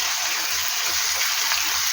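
Water poured into a cooking pan holding pangas fish belly, green chilies, garlic and turmeric, giving a steady hissing splash that runs without a break for about two seconds, close and fairly loud.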